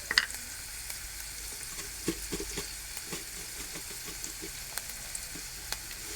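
Onions frying in a pan, a close steady sizzle with repeated light taps and scrapes from stirring scattered across several seconds, no talking.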